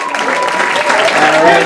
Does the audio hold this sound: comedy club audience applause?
yes